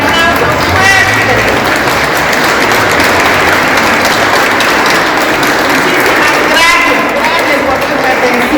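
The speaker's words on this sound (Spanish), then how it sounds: "para todos ellos pido un aplauso fuerte" Loud sustained applause from a crowd at a Cusco artisans' society ceremony honouring dancers, dense continuous clapping with cheers filling the whole stretch, close and steady with no pause.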